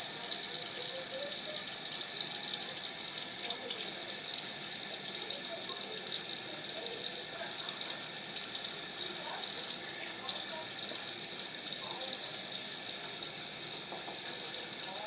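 Water runs steadily from a tap throughout while hair is styled with gel, a continuous broadband hiss with slight rattles and no talking over it.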